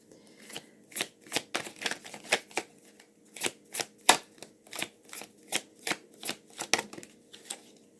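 Tarot cards riffle-shuffled over and over in quick, crisp bursts, each flurry of snapping card edges separated by short pauses, close and clear with no talking.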